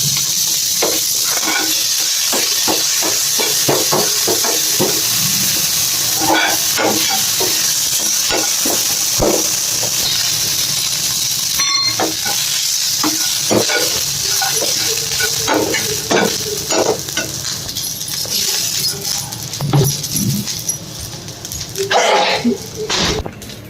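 Tender tamarind leaves go into a hot pan with chillies for a chutney, giving a loud, continuous sizzle broken by clattering stirring strokes that fade toward the end.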